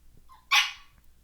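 A pet dog lets out a single sharp, loud bark up close in a quiet indoor room, with faint low background noise before and after.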